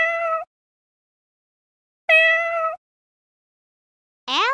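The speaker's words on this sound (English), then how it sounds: "Kitten." Three short, clear kitten meows, spaced apart with silence between, close and fairly loud, the last one rising in pitch.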